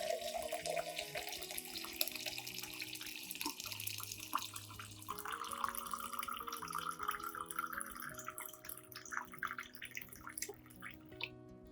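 Hot water pours steadily into a container for a turmeric solution, a continuous splashing stream whose pitch shifts as it fills, ending in a few drips.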